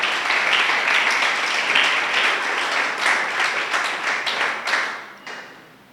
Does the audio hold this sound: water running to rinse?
no